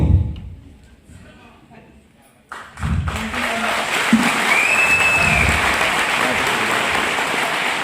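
Clapping from an audience at a stage event in Dehradun, starting abruptly after a quieter stretch and continuing as a steady, fairly loud wash to the end, with a few thumps near the start.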